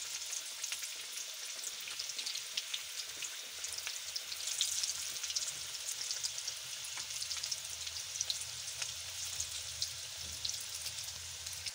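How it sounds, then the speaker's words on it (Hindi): A chicken samosa roll fries in hot oil, giving a continuous soft sizzle and bubbling with small crackling pops and no voices. "ये मैंने एक रोल बनाया है, इसको भी फ्राई कर लेते हैं।"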